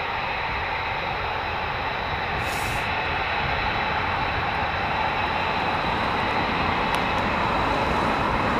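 Propeller engines of a C-130 tanker aircraft flying very high give a steady, even, far-off drone that holds without a break.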